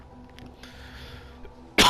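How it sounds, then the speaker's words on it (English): A man with a dry throat from talking gives a single sharp cough right at the end, loud and close after near-quiet room tone. "Pardon my coughing, my throat gets dry from all this talking."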